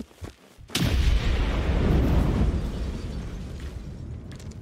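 A loud, close cannon blast in the video game Generation Zero, opening with a sharp crack and then a long, heavy rumbling boom that slowly fades.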